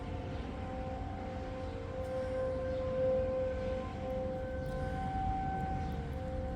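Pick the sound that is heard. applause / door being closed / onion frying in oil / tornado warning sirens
tornado warning sirens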